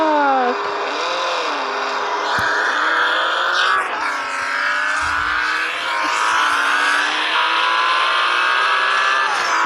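Video game car engine roaring continuously at high revs, pitch sweeping up and down through gear changes and acceleration, loud and constant over the whole stretch with a few brief impact clicks.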